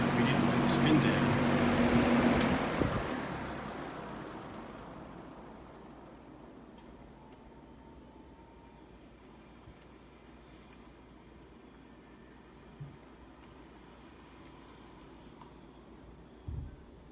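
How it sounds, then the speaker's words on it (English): A vintage electric fan roars loudly on its high setting for a couple of seconds, then is switched off and spins down, its whooshing hum fading away into a quiet room hum with a couple of faint knocks near the end. "let's go up to high and then a spin down"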